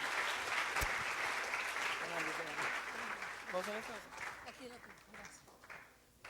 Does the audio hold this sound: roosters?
no